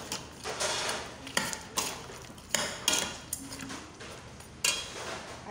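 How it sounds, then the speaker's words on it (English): Goat head pieces are mixed with onions in a metal pot for isiewu: a spoon scrapes and clanks against the pot in an uneven rhythm, with sharp knocks and clinks close by. "So I now use my onions. At this point, I'll mix it thoroughly together."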